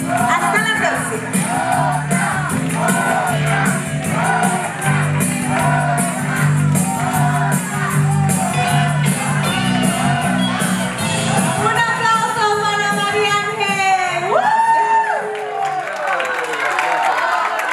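An awards show audience cheering, shouting and whooping at the Golden Latin Awards 2016, a loud, dense crowd roar with voices calling out over it, rising near the end alongside a singing voice.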